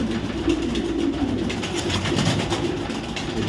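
Racing pigeons, including young chicks, coo in a steady low murmur throughout, with a dense mix of voices and no talking.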